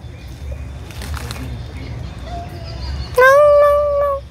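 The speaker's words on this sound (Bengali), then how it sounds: "এই কুকুরটা যাচ্ছে।" A dog whimpers and then lets out a loud, drawn-out howl near the end while being fed meat, the whines rising in pitch over a rumbling outdoor background.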